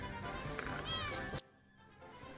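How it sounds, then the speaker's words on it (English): A cat meows in the background, a faint drawn-out call under a brief murmur of talk, followed by a short bright click and then near silence. "if you hear some meows in the background"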